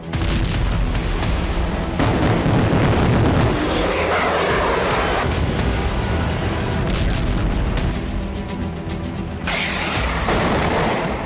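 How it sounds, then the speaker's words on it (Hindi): Heavy bombardment in Syria: repeated deep booms and artillery blasts rolling one after another, dense and loud with rumbling between impacts, alone without voices. "असद सेना और पुतिन की फौज विद्रोही गुट के लड़ाकों पर भीषण बमबारी कर रहे हैं।"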